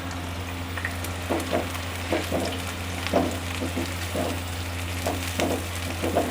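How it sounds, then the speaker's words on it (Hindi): Onions frying in oil for a bhindi chicken dish, a steady sizzle under a low hum, with periodic scraping stirs of a spoon roughly every second. "इसी ऑयल में हम प्याज डाल के फ्राई कर लेते हैं"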